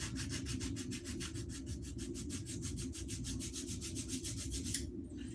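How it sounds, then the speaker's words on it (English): A hand sander rubs back and forth over a wooden axe wedge in fast, even rasping strokes, steady and close, ending with a brief pause. "I'm just going to take my hand sander"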